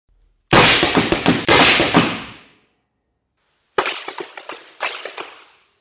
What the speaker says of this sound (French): tir réactif à 7 mètres, hein, avec la dévastateur